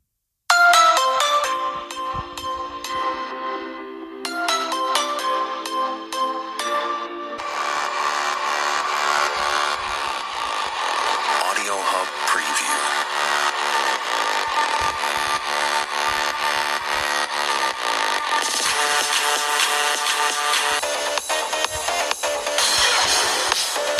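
Royalty-free music plays through the single mono speaker of a Realme 8i phone, starting with a sparse plucked melody before a fuller, continuous arrangement comes in, thin and lacking bass.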